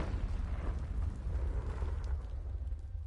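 Confringo spell explosion in the Hogwarts Legacy video game, a sustained deep rumbling blast with heavy low-end roar that stays loud and steady throughout, no voices over it.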